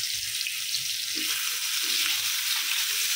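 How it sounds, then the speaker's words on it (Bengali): Potatoes fry in a pan with a steady, dense sizzle that holds evenly from start to finish, close and fairly loud, with no voices. "আলু ভেজে নেব।"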